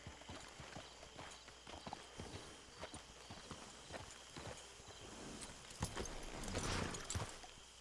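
Horse hooves clop in a steady walking rhythm in the video game Red Dead Online, fairly close, with soft ambient noise and a brief rustling swell near the end.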